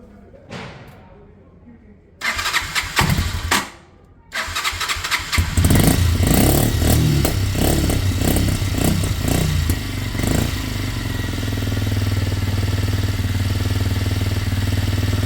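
A Kymco Zing 125cc motorcycle is cranked with a few short starter bursts, then fires and catches. Its engine revs unevenly before settling into a loud, steady, close idle with the choke engaged, with a voice heard briefly during the cranking.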